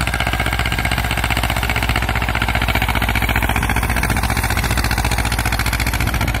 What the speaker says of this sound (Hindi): बहुत ही पुराना ट्रैक्टर है।